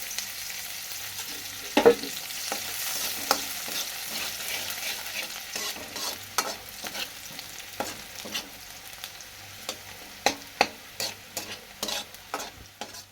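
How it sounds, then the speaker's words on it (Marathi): Onions sizzle and fry in oil in a pan, a steady soft crackle broken by repeated sharp scraping clicks of stirring, with no talking. "कांदा थोडा लाल झालेला आहे. आता मी टाकणार याच्यामध्ये तेल."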